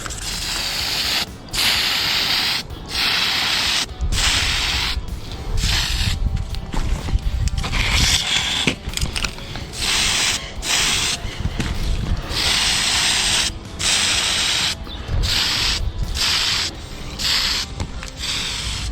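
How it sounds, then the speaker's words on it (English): A spray can coats a model Camaro body and spoiler in primer, giving repeated hissing bursts separated by short pauses, steady and close. "and throw on our first coat of primer, huh?"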